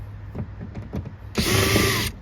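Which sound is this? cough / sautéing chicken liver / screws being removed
screws being removed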